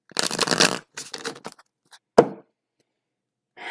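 Tarot cards being shuffled and picked: a quick riffling flutter of cards, then a few shorter shuffles and a sharp single snap as a card is laid down, close up and otherwise quiet.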